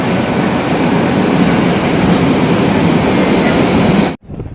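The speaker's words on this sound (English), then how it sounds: "So the train is about to come, hopefully soon." A train rolls into a station in Rome with a loud, steady broadband roar and rumble of wheels on rails, continuing for several seconds before cutting off abruptly.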